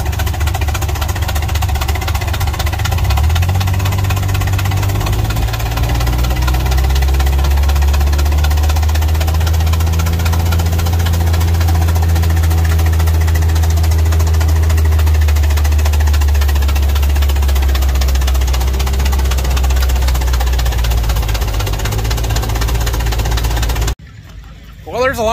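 An old oil pull tractor engine runs steadily at a farm tractor gathering, a loud, deep, throbbing rumble with rhythmic knocking that persists throughout, with someone talking over it before it cuts off abruptly near the end.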